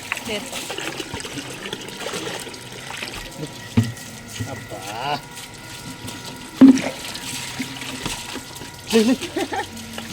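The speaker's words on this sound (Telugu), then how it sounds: "బకెట్తో నీళ్లు పోస్తే ఇలా పొట్టు అనేది పైకి తేలుతుందండి" Water is poured and splashes over sesame seeds being washed in a container, with a steady trickling wash and a few louder splashes, under a person talking.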